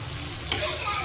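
Spice masala sizzling and being stirred in a pan, a steady frying hiss that swells sharply halfway through as the mixture is moved, with a voice talking over it.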